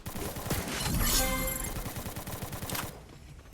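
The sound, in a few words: gunfire, shots being fired nearby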